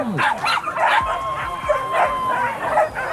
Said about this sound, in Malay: Anjing berada di jalan tolong dicokol.